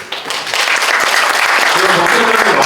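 Applause from the audience at a smart construction safety forum builds quickly into a dense, loud burst of clapping, with a voice faintly audible beneath it.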